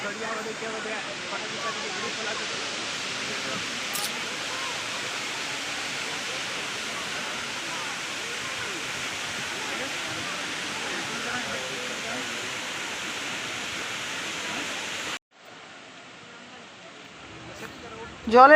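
Steady, loud broadband rush of a waterfall at a tourist spot near Ranchi, Jharkhand, roaring continuously for about fifteen seconds before cutting to a quieter ambience.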